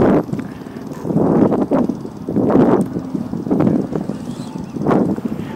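Strong gusts of wind buffet the microphone in rising and falling surges, a loud roaring rush that swells every second or so with no voices.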